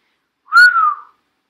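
A single clear whistle, close and loud, rising briefly then sliding gently downward over about half a second, with nothing else around it.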